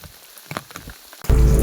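Heavy rain arrives abruptly, a loud wash of downpour beginning after a quiet stretch of faint taps and rustles.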